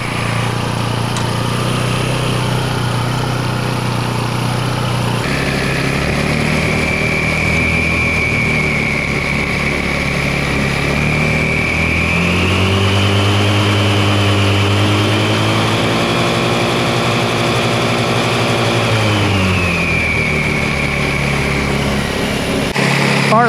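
A 2008 Baja 150 ATV engine idles too high, fast and steady, its droning pitch rising and falling slightly as it runs continuously up close.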